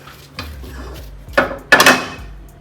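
A metal spoon clinks against dishes while Kerala-style pumpkin curry is cooked, giving a few sharp, close knocks that build to a loud clatter near the end.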